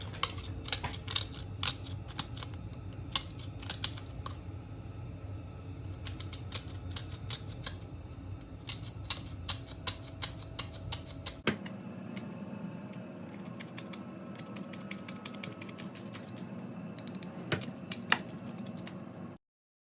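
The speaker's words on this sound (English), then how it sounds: "I'm scraping it to get it inside the that I mix them together." Whole nutmeg scraped over pancake batter, producing a quick series of dry, rhythmic rasping strokes in bursts, close and fairly quiet, with a short pause and a change of tone partway through.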